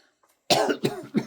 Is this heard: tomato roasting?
no